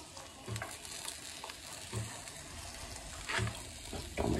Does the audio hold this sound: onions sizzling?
yes